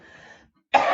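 A single short, sharp cough bursts out close by after a brief moment of quiet.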